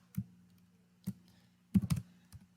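Sparse keystrokes on a computer keyboard while entering Python commands on Windows 10. Single taps come first, then a quick cluster of several clicks near the end, fairly quiet against a low steady background hum.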